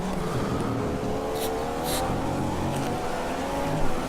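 Formula 1 car engine in an F1 racing video game, a steady loud high-revving drone with a rising whine, racing on the chase of Lewis Hamilton, constant throughout with faint crowd-like background.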